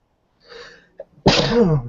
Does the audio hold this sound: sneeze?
yes